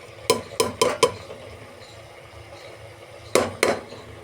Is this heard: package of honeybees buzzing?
no